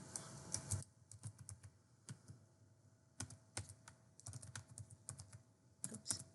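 Quiet, close keyboard typing in short irregular bursts as a dataset name is entered into a mainframe development workbench, with clicks spaced by gaps and no voices.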